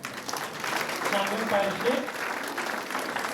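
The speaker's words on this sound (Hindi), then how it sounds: "जोरदार तालियां" Audience applause greeting new committee members of a Ranchi archdiocese youth group at a Christmas gathering, a steady broad wash of clapping under a speaker's voice over a PA.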